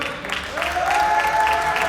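An audience at a tournament prize-giving claps for the podium winners, a steady broadband patter of applause under a sustained tonal sound that rises and holds.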